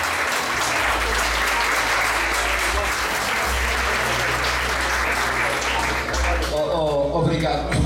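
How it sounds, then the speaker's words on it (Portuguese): A crowd applauds steadily and loudly at a Portuguese-language event honoring someone, the clapping filling nearly the whole stretch before a voice begins talking near the end. "eu peço uma salva de palmas ao Pedro."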